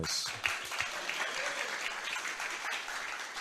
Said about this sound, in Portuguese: Vamos bater palmas aí